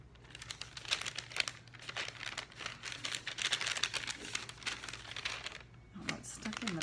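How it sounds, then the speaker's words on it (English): A plastic bag is crinkled and rustled almost without pause while a washi sticker is pulled out of it, close and fairly soft, with a brief lull near the end. "Oh, it's stuck in the bag"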